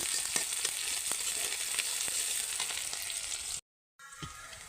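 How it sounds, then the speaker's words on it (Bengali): Onions fry in hot oil at the start of a desi tengra fish bhuna, with a steady, crackling sizzle and scattered pops that briefly drop out before resuming. "তেল গরম করে এই যে পেঁয়াজ দিয়ে দিছি"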